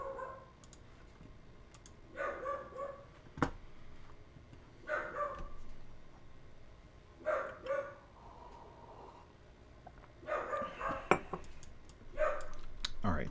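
Several short dog barks come in separate bursts over about thirteen seconds, moderately close and fairly loud, with scattered clicking between them and no talking.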